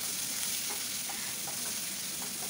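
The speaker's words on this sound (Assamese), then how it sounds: "সেইভাগে ভালকৈ ৰংচোৱা হোৱালৈকে ভাজি ল'ম" Chopped onions frying in oil in a pan, a steady soft sizzle with faint scraping stirs, quiet and close, no voices.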